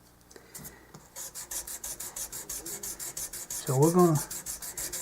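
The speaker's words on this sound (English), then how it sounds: "I'm going to round over the ends of it a little bit with this 400 paper" Steady back-and-forth rubbing of 400-grit sandpaper rounding and polishing banjo frets during a refret, a regular rasping rhythm close up, with someone speaking briefly partway through.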